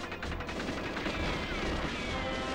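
Rapid bursts of gunfire from the video game GoldenEye 007 rattle continuously at close range, dense and loud, with no voices.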